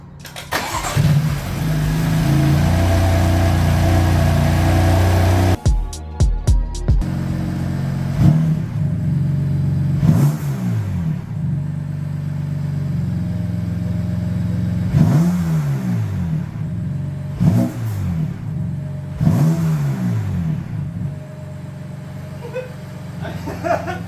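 A BMW F83 M4 with the S55 engine and Eventuri drop-in panel filters cranks and fires up close and loud, then settles into idle and gives several sharp rev blips whose pitch climbs and falls. No one speaks.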